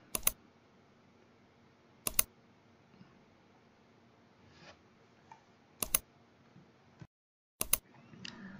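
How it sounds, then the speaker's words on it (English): A computer keyboard struck in four short, separate bursts of sharp clicks with pauses between, close and fairly quiet over a low room hiss. "Hit Windows key and R key at the same time."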